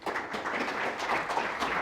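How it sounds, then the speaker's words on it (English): Audience applause welcoming a keynote speaker at a marketing conference: a steady, dense wash of clapping from a sizable crowd, even in loudness from start to finish with no voices over it. "Round of applause as we welcome Tara Kinney."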